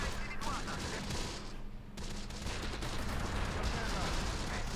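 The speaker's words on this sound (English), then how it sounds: "And we got a lot of artillery coming in." Close Combat: The Bloody First, a World War II game, pours out dense artillery and small-arms fire as a continuous rumbling, crackling barrage. Someone talks over it.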